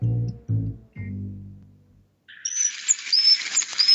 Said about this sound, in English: and, well, listening to the birds chirp.